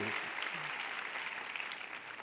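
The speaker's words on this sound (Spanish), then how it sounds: "Un aplauso para ellos." Studio audience on a Spanish-language talk show applauding the guests, a steady wash of many hands clapping, fairly soft and continuous across the short stretch.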